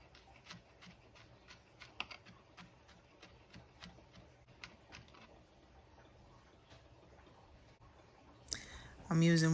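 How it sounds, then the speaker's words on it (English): A knife slices and dices garlic for a turkey meatloaf, with a quick run of light, crisp taps on the cutting board, then a louder burst of noise at the end. "Slicing up my garlic. I like to slice and dice it nice and fine."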